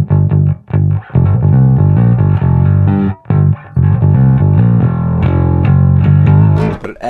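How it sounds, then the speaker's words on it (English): Bass guitar played through an EBS Billy Sheehan Signature Drive distortion pedal, a loud, gritty, harmonically rich tone with punchy note attacks, short gaps and a run of higher notes near the end. "That distortion in the background brings in a lot of harmonic content."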